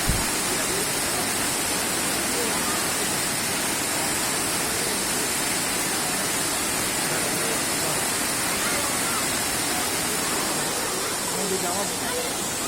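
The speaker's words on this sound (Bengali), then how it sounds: "এই জলটা একটু শান্ত কিন্তু ওপর থেকে পড়ছে স্রোত আছে" Water at Elephant Falls in Shillong pouring down from above and flowing on in a steady, continuous rush, loud and close throughout with no break.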